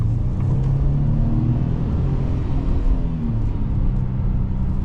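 A 2026 Ford F-150 pickup with an EcoBoost V6 accelerates, heard from inside the cab as a loud, steady low rumble with a smooth rising engine drone and no talk.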